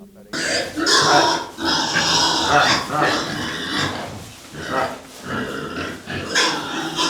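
Coarse, rough grunts from Duroc and Pietrain meat pigs on a small farm come in irregular bursts, close by and loud, with short pauses between them.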